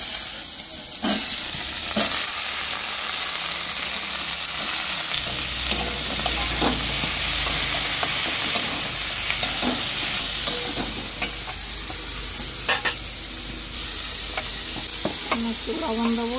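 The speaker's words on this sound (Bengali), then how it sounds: "কেটে ধুয়ে রাখা আলুগুলো দেবো," Cut potatoes and a bay leaf with chopped onion and garlic fry in a pan while a utensil stirs, giving a steady close sizzle with scattered scraping clicks and knocks, no voices.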